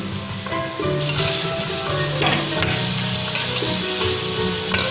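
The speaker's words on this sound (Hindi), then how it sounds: "ये सब्जियां फ्राई हो गई हैं" Mixed vegetables frying in hot oil for a chicken macaroni dish, a steady close sizzle with brief stirring scrapes, briefly quieter at the start and then loud and continuous.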